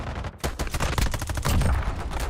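Rapid bursts of gunfire ring out in a video game, dense overlapping shots and crackles in a short loud flurry.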